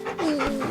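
A dog in Final Fantasy XVI pants in quick, close breaths with a faint whining tone, a short burst with no speech over it.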